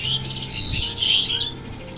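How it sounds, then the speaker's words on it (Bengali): Birds chirp and tweet at a village pond in the morning, a busy overlapping chorus of high calls that runs through the whole moment at moderate distance, with no talking. "এই পাখিগুলা আমি এগুলো তাড়াই না, সেগুলা ওরা খায়, কিচিমিচি শব্দ করে"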